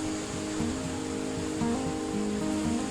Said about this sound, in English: you can probably hear the rain tipping down